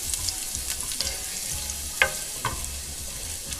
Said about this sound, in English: So our olive oil heated up, and now we've added our garlic.